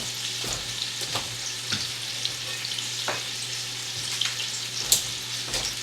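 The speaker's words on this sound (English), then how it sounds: "All you're doing is just browning the outside, giving that little brown flavor." Beef roast browning in a hot pan for a crock pot dinner: a soft, continuous sizzle with a handful of scraping or stirring strokes spaced a second or so apart, close but fairly quiet.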